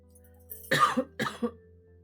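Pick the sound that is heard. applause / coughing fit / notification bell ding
coughing fit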